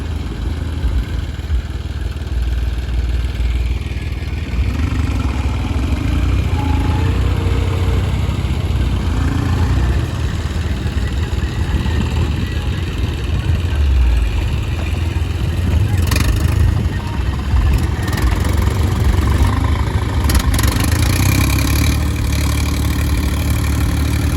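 A tractor fitted with a rotavator, stuck in a muddy puddled paddy field, runs with a steady loud engine drone and low rumble throughout, and brief clanks come near the end.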